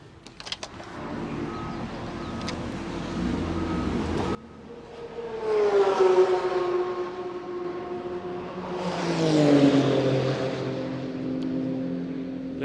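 Dream sports cars on a race circuit roaring past in loud waves, one engine note swelling, dipping and then surging again as it accelerates, with no talk over it.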